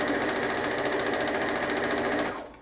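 A sewing machine stitches steadily in a fast, even whirring rattle, close and loud, running continuously before slowing and stopping at the end.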